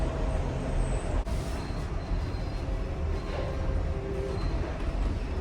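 A London train at Tower Hill station gives a steady loud rumble from inside the carriage, with low mechanical drone and faint rattles throughout, no voices.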